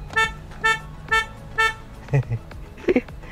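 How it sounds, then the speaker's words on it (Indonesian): A Hyundai Kona Electric's horn gives four evenly spaced short toots, bright and close, followed by a few thumps and handling noises. "Suara klaksonnya seperti ini."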